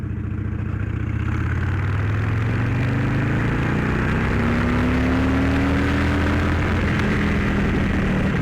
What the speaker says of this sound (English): Oh, a little pop there, but I had to take third gear all the way up.